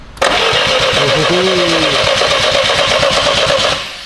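A Volkswagen fitted with a swapped-in BMW engine cranks and catches for its first start, running loud and close with a steady rough idle for several seconds before dropping off.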